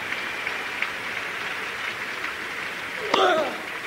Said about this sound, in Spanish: Sigue sonando la ovación en la central